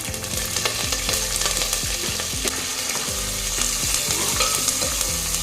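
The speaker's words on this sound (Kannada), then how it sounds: "ಒಂದ್ಸಾರಿ ಫ್ರೈ ಮಾಡ್ಕೊಳ್ಳಿ ಈ ರೀತಿ." Green chillies, cumin and curry leaves frying in hot oil for a dal tadka, a steady loud sizzle with repeated scraping and stirring clicks of a spoon against the pan throughout, no voices.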